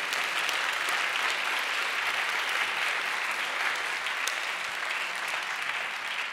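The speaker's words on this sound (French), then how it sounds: "Et on peut les applaudir vraiment extraordinaire" Concert audience applauding the technical team, a full, even roar of many hands clapping that stays steady and dense for several seconds without any talk.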